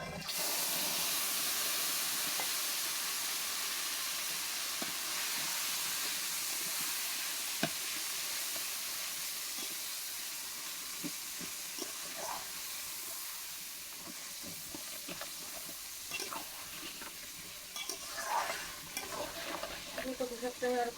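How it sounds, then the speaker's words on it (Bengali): Mustard seeds frying in hot oil for a Bengali taro and tangra fish dish, a steady close sizzle and hiss with faint scattered pops and crackles, no voices. "তেল কিন্তু গরম হয়ে গেছে আমি সরিষা দিয়ে দেবো সরিষা ফুটে গেছে"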